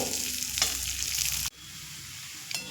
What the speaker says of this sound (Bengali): এবার ডালটা একটু ভেজে নেব